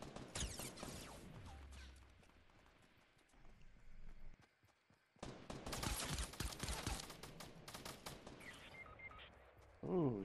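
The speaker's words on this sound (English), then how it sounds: "he's still shooting at us on the left side of that mountain right there" Scattered gunfire in Fortnite, sharp bursts and clusters of shots at varying distances with quieter gaps between them, some bursts near and dense, others faint.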